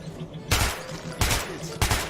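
Three loud bursts of gunfire ring out in Metro 2033, evenly spaced across a couple of seconds, each a sharp crack with a short rumbling tail.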